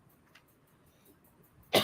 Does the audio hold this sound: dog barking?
no